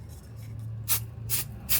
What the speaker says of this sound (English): I'm gonna spray a little bit of this